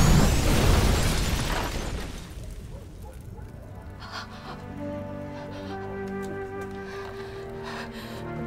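A powerful atomizer gun fires one heavy, booming blast that fills the opening seconds, then decays into a low rumble while steady tonal sounds carry on underneath.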